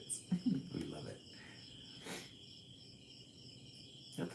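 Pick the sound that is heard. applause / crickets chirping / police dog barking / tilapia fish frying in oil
crickets chirping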